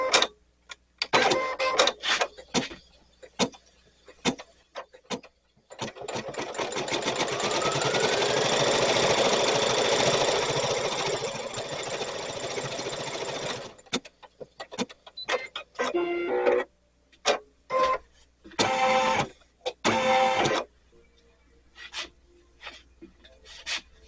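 An embroidery machine stitches the brown section of a loose, sketch-style pumpkin design. A rapid mechanical whirring runs for several seconds, set between stretches of stop-start clicking and short machine bursts.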